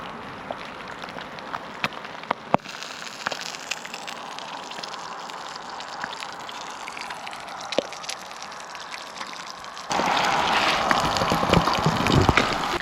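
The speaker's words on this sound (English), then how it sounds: "It's raining." Steady rain patters and hisses in a medieval French town, with scattered drips; the downpour grows noticeably louder and denser near the end.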